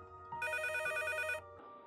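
A telephone rings with a bright, steady electronic trill over a low hum. A short burst is followed by a longer continuous ring, then a quieter tone as it fades out, with no talking.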